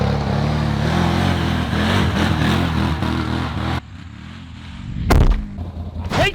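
Vehicle engine drifting around a barn, a loud, continuous roar that cuts off abruptly, followed by a few sharp bursts and rumbles nearby.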